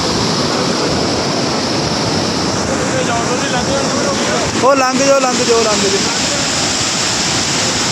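A river rushes along the mountain trail to Hemkund Sahib, a steady, loud broadband roar that fills the whole stretch, with people's voices calling out briefly over it midway.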